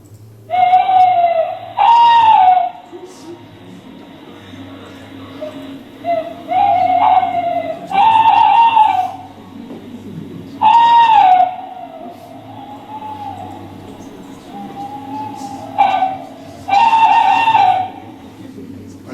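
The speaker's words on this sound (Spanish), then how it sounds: "se utiliza el canto del cárabo como ambiente nocturno" Tawny owl hooting at night, several loud, wavering, drawn-out calls repeated at irregular intervals, close and clear over a quiet low background.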